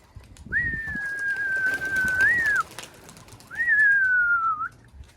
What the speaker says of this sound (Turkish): kuşları saldım ama bakın bunlar ürküyor arkadaşlar